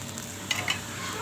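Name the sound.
stirring Acehnese fish stir-fry with curry leaves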